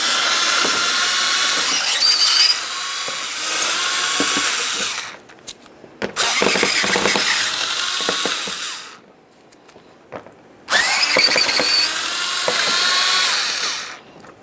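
Impact or power tool driver loosening 7mm mounting bolts on a 2006-2012 Ford Fusion's AC condenser and receiver drier assembly, in three loud whirring bursts separated by short pauses with clicks and handling noise.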